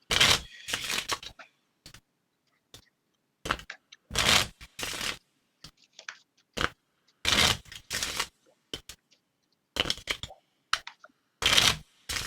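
Deck of trading cards being shuffled during a card game, in short crisp riffling bursts separated by silence, repeated about a dozen times, close and clear.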